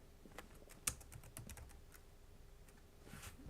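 Irregular clicks and taps on a computer keyboard with one sharper keystroke, close but quiet, with brief pauses between bursts and no voices.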